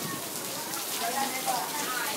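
Rain falls steadily outdoors at an animal attraction in Orlando, a soft, even hiss of drops that continues throughout, with faint voices underneath.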